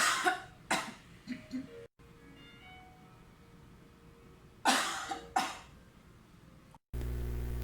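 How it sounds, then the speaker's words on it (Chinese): Deep, forceful chest coughs meant to clear phlegm, heard close and alone: two short bursts, a pause, then two more, each a sharp explosive expulsion of air with the glottis closed. "瞬间吐气，并做短而有力的咳嗽。 此时声门为关闭状态，可听见深层由胸部发出的咳嗽声。"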